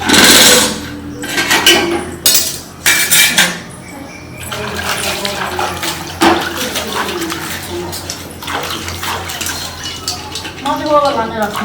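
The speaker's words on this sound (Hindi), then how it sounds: "ठीक छै मालिक, करू आराम, हम बर्तन धोइ छी।" Dishes, pots and utensils are washed by hand, with repeated clanks and scrapes of metal cookware and cutlery alongside splashing water, while people talk over the clatter throughout.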